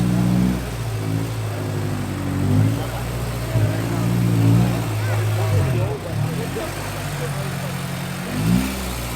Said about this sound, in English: why is this guy doing a fucking donut right here?